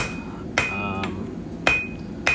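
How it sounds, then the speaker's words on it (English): A blacksmith works a forged steel stem down to size for a wine and whiskey bottle holder: three sharp, ringing hammer strikes on hot steel, spaced about a second apart, close and loud over a steady shop hum. "I like kind of mixing in hammer work and power hammer."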